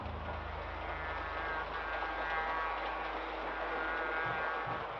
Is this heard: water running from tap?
no